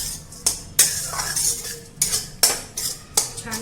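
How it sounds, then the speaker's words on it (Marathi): Crushed peanuts are stirred into a chutney in a pan, with a spoon scraping and clinking against the metal in several sharp strokes over a soft background sizzle, close and without speech. "आता आपण दाण्याचा कूट घालूया आणि चांगलं मिक्स करून घ्यायचे"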